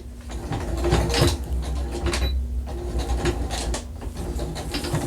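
A sewing machine top stitches a journal cover, running as a steady close mechanical whir for the full stretch with no speech over it.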